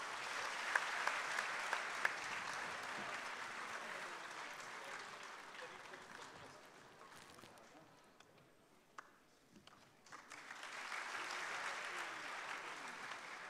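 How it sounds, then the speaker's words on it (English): An audience in a university hall gives a sustained round of applause, dense clapping that thins out midway then swells again near the end, with a voice faintly heard at times. "A huge round of applause for Mr."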